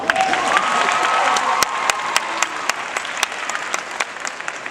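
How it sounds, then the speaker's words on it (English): Steady applause from a large graduation ceremony audience, loud at first and gradually thinning out, with scattered individual claps standing out toward the end. "let's give our parents a round of applause"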